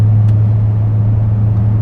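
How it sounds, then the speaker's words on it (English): A 2024 Audi RS6 Performance with an APR stage 1 tune and Valvetronic catback exhaust idles with a steady, deep, low rumble, close and continuous throughout, with no voices. "installing a Valvetronic Catback exhaust, where at the click of a button I can make this thing have a nice deep rumble"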